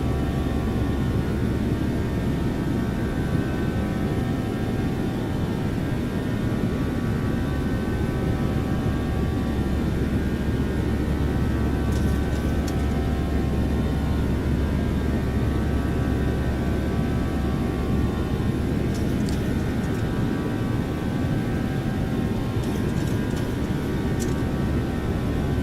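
Boeing 737-800 jet engines at climb thrust in X-Plane 12, a steady loud broadband roar with a low rumble, constant and unbroken throughout, heard from inside with a few faint clicks near the end and no talk.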